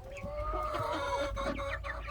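Rooster and hens cluck in a dense, steady stream of overlapping calls nearby, fairly loud and uninterrupted by talk.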